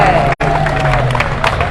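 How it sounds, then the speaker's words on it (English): A crowd at an Adelaide protest rally claps and cheers in a dense, continuous wash of applause, with a voice talking over it and a brief dropout near the start. "People applauding that latest speech."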